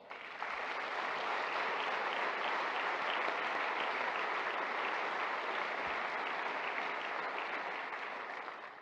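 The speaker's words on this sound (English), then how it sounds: "Let's offer them another round of applause." Sustained audience applause at a fire chiefs' association installation ceremony, a dense, steady wash of many hands clapping at even loudness for nearly nine seconds, easing slightly at the very end with no voices on top.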